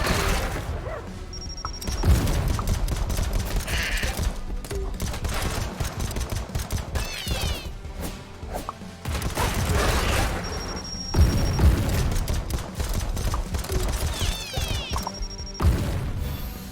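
Rapid pistol fire in the roguelite bullet-hell game AK-xolotl, with quick repeated shots and crashing impacts layered over game music and effects, broken into several bursts.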